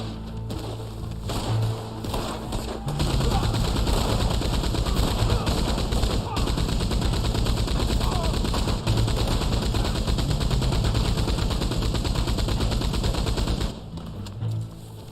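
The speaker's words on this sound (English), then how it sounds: "this machine gun would have overheated by now" A machine gun in the video game Red Dead Online fires long sustained bursts, a rapid steady rattle held for about ten seconds after a few sparse opening shots, loud and close, then cutting off.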